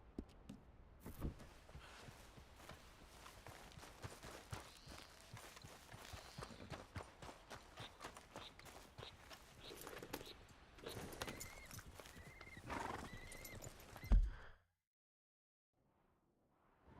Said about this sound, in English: Tá meu cavalo.